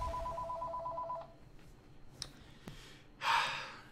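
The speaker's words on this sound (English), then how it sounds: "Looks like there is a phone ringing" A phone rings for about a second with an electronic two-tone trill, then falls quiet, followed by a soft breath and a short sigh.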